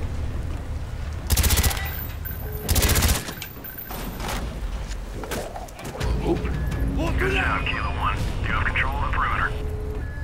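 Gunfire blasts door hinges in Call of Duty: Black Ops, with two loud bursts of shots over a constant rumble of aircraft engines, followed by clattering impacts and someone talking over radio chatter.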